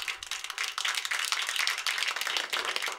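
A comedy show audience breaks into applause, a brief burst of many hands clapping that stays dense and even across a few seconds, moderately loud with no talk over it.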